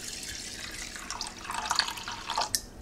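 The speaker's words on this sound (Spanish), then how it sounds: "vamos a añadir agua fría hasta que lo cubra totalmente." Cold water runs into a bowl holding about a small cup of rice, a steady splashing pour lasting a few seconds with no voices over it.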